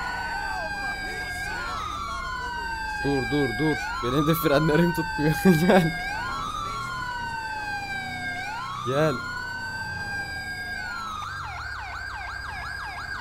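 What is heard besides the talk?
police siren in GTA 5 (video game)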